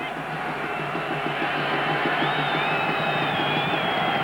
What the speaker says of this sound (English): Crowd exhorts the BC defense.